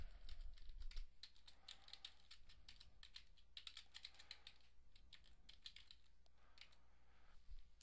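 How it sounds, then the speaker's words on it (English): Rapid typing on a computer keyboard while entering a document heading in MS Word, a steady close run of light key clicks with short pauses, no voices. "Let's go ahead and type in the heading."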